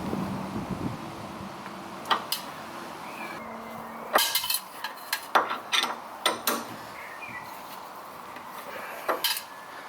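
A spanner works a thin nut on the suspension of an MGB, giving sharp metallic clicks and clinks in short irregular clusters, close by, over a faint steady background hum.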